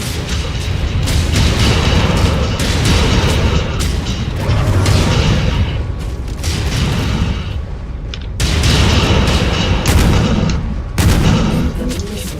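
Incoming missiles detonate in MechWarrior 5 with loud, dense blasts and crackling impacts, coming in clustered volleys separated by brief lulls over a continuous low roar.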